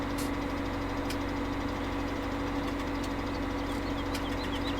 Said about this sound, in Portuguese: Olha só o som desse motor